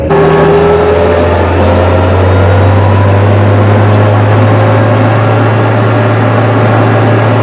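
An armored military vehicle drives along a suburban road, its heavy engine putting out a loud, steady low drone with a constant mechanical hum that never lets up.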